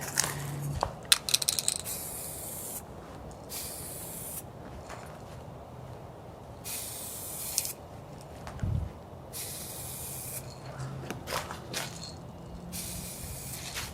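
Spray painting a Diamondback BMX Viper JR bike frame during a restoration, repeated hissing aerosol bursts of a few seconds each with short pauses between them, close by, along with faint outdoor handling noises.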